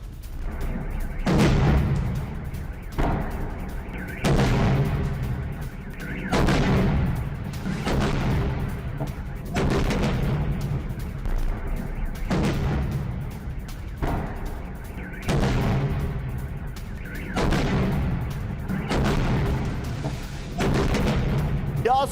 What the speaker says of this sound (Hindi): कई जगहों पर कम दूरी की मिसाइलों से अटैक किया गया है।